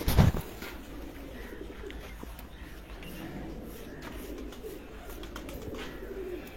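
Cheena pigeons coo softly and steadily in a loft after a brief loud bump at the start, with a low murmur of background sound throughout.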